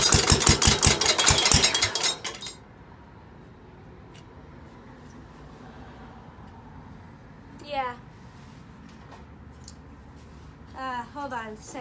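A 1969 Ford 120 tractor engine cranks and starts with a loud rhythmic chugging over the first two seconds, then settles into a quiet, steady idle; brief voices and a child's speech come through near the end.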